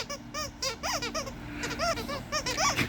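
Rapid squeaky toy squeaks in quick bursts, high and bouncy, repeating irregularly over a faint background hum.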